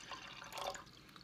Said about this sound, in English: I will pour water into the pot